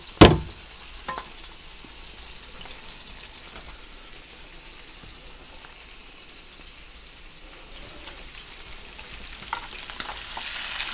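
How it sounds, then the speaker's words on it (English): Beef tenderloin steak tips searing in a hot pan, giving a steady close sizzle and crackle throughout with a sharp clatter at the start, and no talking. "We're going to sear this all the way around and then right into the oven for about 30 minutes."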